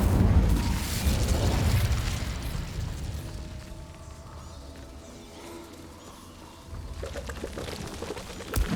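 Incendio fire spell cast in Hogwarts Legacy: a loud whooshing, roaring burst of flame at the start that fades into a lower crackling rumble, then flares again near the end.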